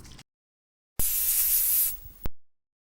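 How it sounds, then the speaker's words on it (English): A single sustained spritz of Gerard Slay All Day setting spray in the Green Tea Ginger scent, a close, bright hiss lasting about a second between near-silent gaps. "I'm going to be going in with my Gerard Slay All Day Setting Spray"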